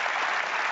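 Studio audience of a daytime talk show claps in a brief, steady burst of dense, even applause with no pauses, heard alone.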